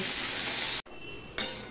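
Salted papaya pieces fry in a pan with a loud, steady sizzling hiss that drops out for a split second, then resumes fuller and brighter.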